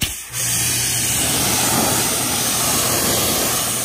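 A pressure rinse of water sprays steadily over a bug-spattered car coated in pH-balanced snow foam, a loud, continuous broadband hiss that starts abruptly and holds without a break.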